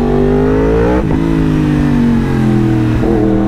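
A fast motorcycle ridden in Thailand roars loudly and steadily at high revs, its engine pitch sliding through two quick shifts as it pulls hard and close.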